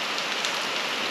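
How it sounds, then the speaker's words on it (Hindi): Heavy rain pours down at night in a steady, dense hiss of drops hitting surfaces, loud and unbroken throughout with no voices. "बारिश बहुत ज़बरदस्त हो रही है। अगर आप लोगों को आवाज़ आ रही है"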